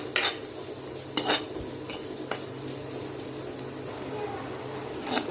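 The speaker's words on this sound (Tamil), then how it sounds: "நல்லா வதக்கிக்கோங்க" Onions sauté in a pan for peanut sundal, a low continuous sizzle broken by several sharp clinks of a spoon stirring against the metal pan.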